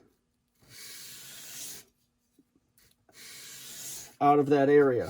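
Two long abrasive hand strokes rasp along a steel sword blade to remove grinder marks, each about a second, separated by a quiet pause, followed by someone speaking.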